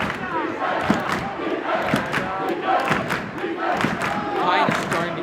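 Large crowd at a high school varsity men's basketball game between Seven Hills and St. Bernard, a steady roar of voices and shouting with occasional thuds, continuous and fairly loud throughout.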